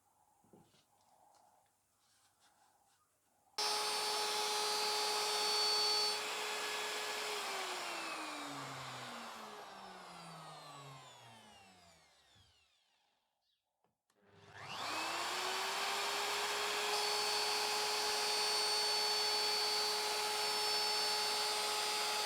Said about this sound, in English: So let's crack on with the router bit, look how we do it